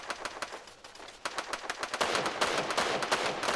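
Gunfire in the mobile battle royale game Free Fire: rapid bursts of automatic shots, fairly close, packed into a dense rattling stream that grows louder and busier toward the end, with no talking.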